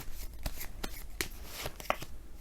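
A deck of tarot cards being shuffled by hand in a few quick, papery riffles and flicks, close and fairly quiet, with no talking.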